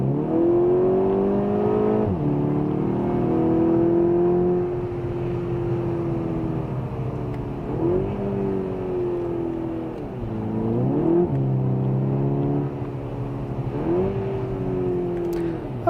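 A 2015 Volkswagen Scirocco 2.0 TSI R-Line in sport mode revs up and down several times from inside the cabin, the engine note rising and falling in repeated swells, with no talking.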